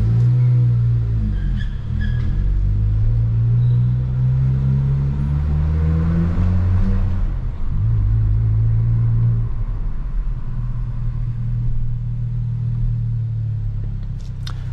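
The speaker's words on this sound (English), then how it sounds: "this car really sounds like a sports car proper, even maybe a supercar" A Hyundai i20 N hot hatch with a 204 hp engine drones steadily from inside the cabin during a night drive, its engine note climbing and falling through gear changes, loud and continuous with no talking.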